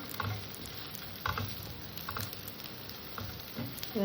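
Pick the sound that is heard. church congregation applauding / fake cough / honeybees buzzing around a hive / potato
potato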